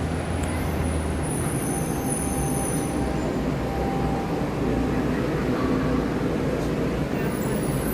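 A Magic Kingdom monorail train, Monorail Orange, rolls in with a steady, close rumble of wheels and motor that holds loud and even throughout, with no talk over it.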